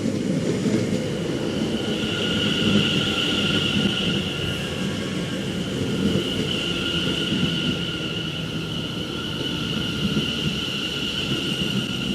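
A Greater Anglia train rumbles steadily nearby with a sustained high squeal of wheels and brakes as it rolls into a station.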